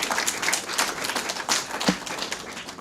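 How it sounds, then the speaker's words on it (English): An audience at a government agreement signing gives a round of scattered, fairly soft applause, dense overlapping claps with a brief thump partway through. "A round of applause for Stephenson King."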